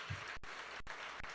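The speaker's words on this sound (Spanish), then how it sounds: "Dale un aplauso al Señor." Church congregation clapping for the Lord during a Spanish-language sermon, a dense steady wash of many hands with a few sharper claps standing out, continuous and fairly close for the whole stretch.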